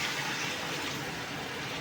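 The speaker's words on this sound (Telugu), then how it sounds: "ఇప్పుడు మనం ముక్క మునిగేంత వరకు వాటర్ పోసుకుందాం" Water pouring steadily into a pot of country chicken curry (natukodi pulusu), a continuous close gushing wash with no talk.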